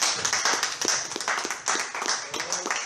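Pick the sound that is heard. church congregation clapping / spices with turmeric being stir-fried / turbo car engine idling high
church congregation clapping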